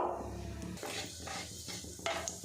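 Black cumin seeds crackle and sizzle in a spoonful of hot white oil in a pan, a steady close frying hiss with a faint stirring clink or two, no one speaking.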